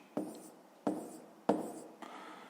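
A pen writes numbers on paper in three short scratchy strokes, each a sharp onset fading out, close and quiet with no talk.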